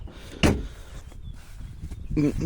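A car side door, the opposite-side door of a rear-access van, is opened with a single sharp clunk near the start, then a quiet rustling pause and a softer handling sound at the end.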